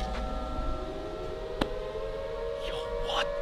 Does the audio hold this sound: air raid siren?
yes